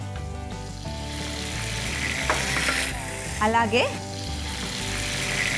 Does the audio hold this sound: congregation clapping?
no